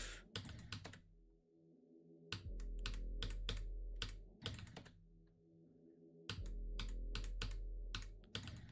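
Computer keyboard clicking in quick bursts of close, crisp keystrokes, separated by short pauses over a low steady hum, with no talking.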